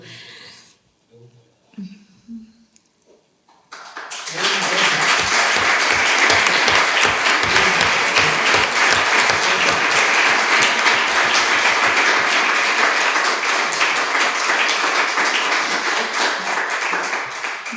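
An audience at a round-table event about the July 3 Valencia metro accident bursts into loud, sustained applause after a few quiet seconds, the dense clapping holding steady until the end.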